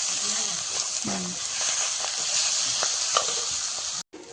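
Duck meat sizzles and simmers in a pot, giving a steady close frying hiss with occasional stirring scrapes and clinks, while faint voices talk in the background.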